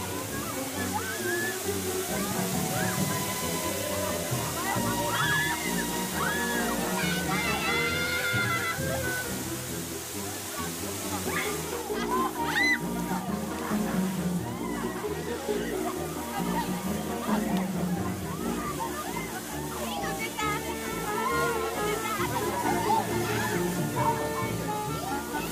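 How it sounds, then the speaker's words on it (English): Steady high-pressure hose spray washing thick mud off at a tidal flat in Japan once the tide comes in, a continuous loud rushing water sound with slosh and splatter throughout, with voices and background activity faintly mixed in. "A high-pressure hose is the only way."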